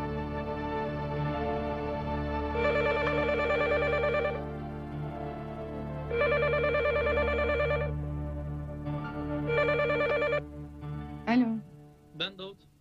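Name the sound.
telephone ringing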